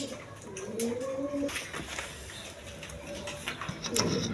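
Pigeons at a breeding farm coo softly and close by, a nesting pair sitting on eggs, with low rustling and faint background noise throughout.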